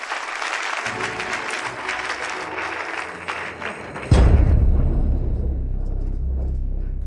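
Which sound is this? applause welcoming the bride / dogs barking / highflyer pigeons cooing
applause welcoming the bride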